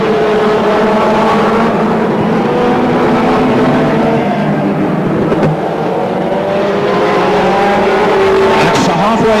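BriSCA F1 stock cars race around an oval track at Northampton, loud roaring engines rising and falling as cars pass, with a commentator talking over the racing throughout.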